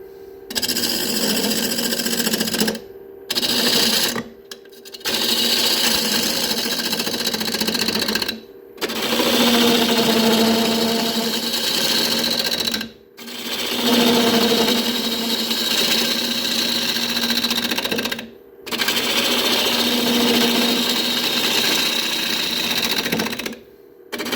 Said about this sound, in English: I shall start turning the outside with my 1/2 inch spindle gouge. There we go, turning at 930 RPM.